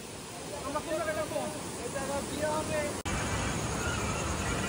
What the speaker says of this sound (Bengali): এই জায়গায় ঝর্ণার শব্দ শোনা যাবে।